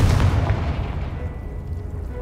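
A Confringo fire spell bursts in the video game Hogwarts Legacy, a booming explosion at the start that rumbles and fades out over about two seconds.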